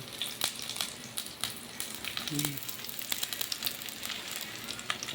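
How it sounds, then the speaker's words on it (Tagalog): Ground meat sizzles steadily in a hot pan as it is sautéed for mung bean stew, a soft, even frying crackle with faint stirring clinks and a brief voice underneath. "Giniling. Ginigisa ko na."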